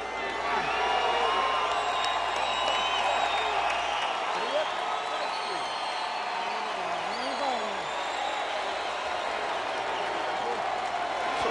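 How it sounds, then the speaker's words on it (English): A boxing match crowd gives a lukewarm, sustained cheer, a steady roar of voices and scattered whoops filling the arena, with a commentator talking over it. "Sort of a half-hearted cheer from the crowd."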